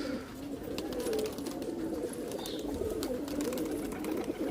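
A flock of domestic pigeons cooing, a low, continuous rolling murmur from many birds close by, with faint ambient noise and no talking.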